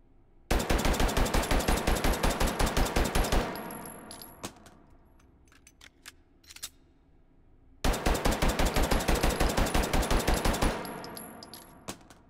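Two long bursts of rapid Glock pistol fire in the VR game Hot Dogs, Horseshoes & Hand Grenades, loud evenly spaced shots followed by metallic clinks of casings and handling sounds between bursts.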